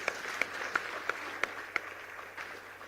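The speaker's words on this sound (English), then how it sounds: "A big round of applause to Chairperson SEBI." Moderate applause from a convention audience of company secretaries, a steady rustling wash of clapping with a few louder individual claps standing out near the start, heard from a distance in a large hall.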